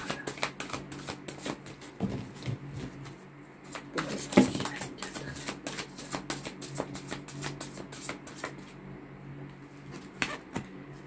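Playing cards riffled and shuffled for a general tarot-style card reading, a steady run of crisp papery flutters and soft taps, close and fairly quiet, with no talking.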